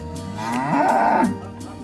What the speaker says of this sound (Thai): อันนี้เป็นวัวสาว ๆ ยังไม่ได้ผสมพันธุ์